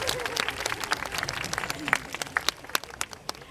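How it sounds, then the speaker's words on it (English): A crowd at a sea lion show at Blackpool Zoo gives fairly close applause, a busy patter of claps that becomes sparser and more separated toward the end, with some voices mixed in. "A nice round of applause for Anya."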